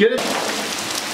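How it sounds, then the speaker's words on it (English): Heavy rain pours down outdoors in a dense, constant hiss of drops hitting surfaces, with a brief voice speaking at the start. "you guys know it's raining like crazy right now"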